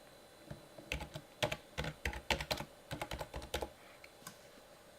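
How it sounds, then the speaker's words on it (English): A password tapped out on a computer keyboard, with quick irregular clicks of individual keys in short bursts, close and fairly quiet against a faint background hiss. "you want to type in your password"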